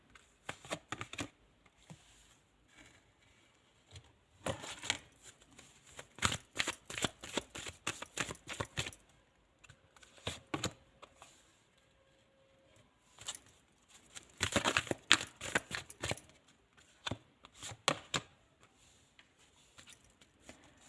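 Oracle cards are shuffled by hand for a reading in close, crisp bursts of rapid flicking and riffling, separated by short pauses, with no voices.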